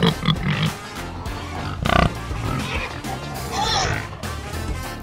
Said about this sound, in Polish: Świnia chrumka.